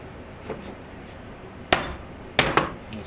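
A hammer strikes a center punch to mark holes in knife steel, with sharp metallic taps at moderate distance: one single hit, then two close hits, over a quiet background.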